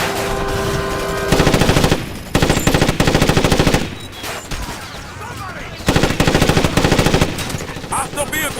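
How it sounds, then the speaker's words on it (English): Automatic gunfire from the tactical shooter Ghost Recon Advanced Warfighter on Xbox One X rattles out in several loud, rapid bursts separated by short pauses, with scattered quieter shots and battle noise between them. "All those shots must be some kind of welcome party at the border."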